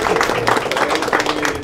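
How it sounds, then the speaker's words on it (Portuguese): An audience claps and cheers for Dani, a marketing team member, at a churrascaria. Steady, dense applause fills the whole short stretch at close range. "Palmas pra Dani, né?"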